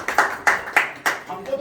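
Hands clapping at a housewarming ceremony, five or six close, sharp claps in a loose rhythm, with voices mixed in.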